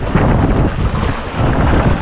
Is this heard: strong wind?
yes